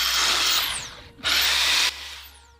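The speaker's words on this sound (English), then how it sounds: "Drilling through a mirror is exactly the same procedure as drilling through a tile." A power drill runs at high speed through a mirror, a loud, close, high-pitched whine in two long bursts with a short dip between them as the bit bites, then the motor spins down.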